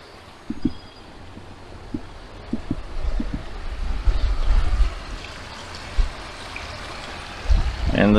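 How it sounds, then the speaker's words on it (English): Continuous rushing of a flowing stream, moderately loud, with a few light knocks and bumps scattered across it, at Vogel State Park campground. "So you can hear the water."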